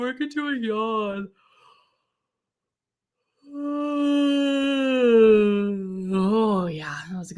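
A singer yawns out loud during a vocal warm-up, producing voiced, sliding tones: a short phrase, a pause, then a long sustained yawning sound drifting in pitch, and another brief vocal onset.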